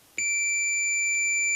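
A multimeter gives a continuity beep while probing corner to corner across a conductive plane on a router project: one sustained, clean electronic tone starts abruptly and holds steady, close and alone.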